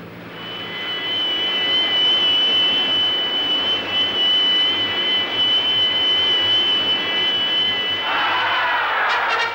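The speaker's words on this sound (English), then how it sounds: "As the plane climbs to the required altitude, each team member goes over what he has to do." A plane climbs to altitude carrying skydivers, its engine a loud, steady drone with a sustained high whine that holds unbroken before shifting near the end.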